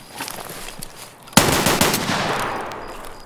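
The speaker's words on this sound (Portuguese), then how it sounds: "Driz, você escutou os tiros?" Gunfire in the video game Escape from Tarkov during a night raid: one sharp, loud shot burst near the middle, leaving a long echoing decay, after quieter background ambience.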